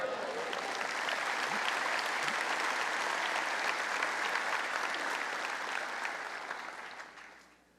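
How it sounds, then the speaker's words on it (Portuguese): A church congregation applauds during a sermon, a broad, sustained wash of clapping that holds steady for several seconds and then fades out at the end. "glorifica a Deus com suas palmas"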